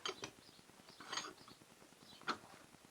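A small ring cut from a spring is clamped in a bench vise, giving a few faint, quiet metallic clicks and ratcheting creaks spaced out over a few seconds, with no speech.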